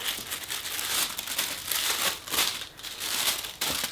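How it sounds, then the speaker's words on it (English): Tissue paper crinkles and rustles in repeated close, bursty handfuls while a Chanel 21A Small Classic Flap bag is unboxed, continuous for several seconds with no voices. "And then you've got the tissue paper."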